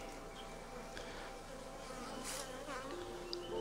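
A dense, steady drone of many honeybees buzzing close by around a clustered ball of bees during hive removal, continuous throughout with slight swells in intensity.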